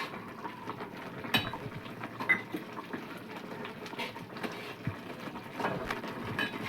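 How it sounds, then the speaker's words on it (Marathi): A utensil stirs dry raw semolina (rava) in a pan for cutlets made from potato and rava, with irregular light scraping and soft clinking taps continuing faintly throughout. "आपण असं हलीतच राहणार आहे"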